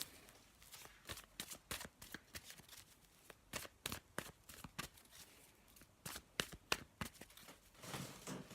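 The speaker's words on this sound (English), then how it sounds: "let's have a little shuffle and see what we've got" Tarot cards shuffled over and over in quick, papery riffles and flicks, soft and close, with no talking.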